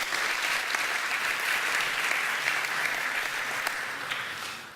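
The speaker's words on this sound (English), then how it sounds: "Okay, please give him a big applause," Conference audience at an accessibility event gives a speaker warm applause, dense, steady clapping from many hands filling the hall and tapering slightly near the end.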